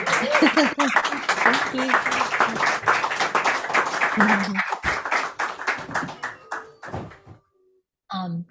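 A small audience at a poetry reading claps for several seconds, with sharp separate hand claps under talk that thin out, go quiet, then a voice briefly says thanks.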